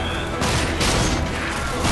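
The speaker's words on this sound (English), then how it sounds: "The shotgun is a type of weapon that when you hit the fire button and point it at someone" Shotgun blasts from the video game RAGE, a loud, dense burst of booming gunfire that fills the whole clip with heavy low-end punch and crackling high-end detail, sounding close and relentless throughout.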